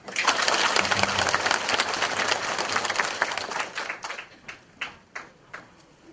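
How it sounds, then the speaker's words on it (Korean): Audience applause for the judges at a Chungbuk happy-village contest awards ceremony: dense, close clapping that thins out near the end into a few scattered, separate claps. "심사위원님께 따뜻한 박수 부탁드립니다"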